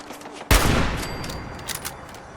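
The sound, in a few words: turret gunfire in the video game Fallout 4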